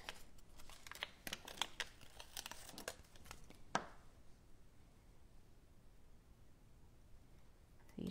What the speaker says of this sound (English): I'm going to peel off this top layer.